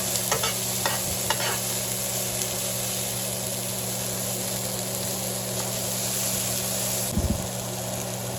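Softening vegetables for Caribbean-style fried cabbage are stirred in a frying pan. A quiet, steady sizzle runs throughout, with a few light scraping strokes early on and near the end.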